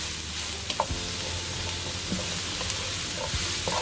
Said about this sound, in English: Just throwing in the mushrooms. Now the mushrooms will immediately soak up all the oil and fats in there.